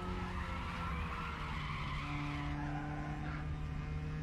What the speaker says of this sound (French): petite dérive légère